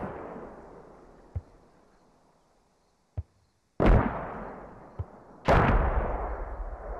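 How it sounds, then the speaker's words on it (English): Mortar rounds landing in the military shooter Squad: two heavy, loud explosions with long rumbling tails, preceded by a distant boom and separated by sharp, fainter thuds and near silence. "Oh, the mortars are following pretty close here."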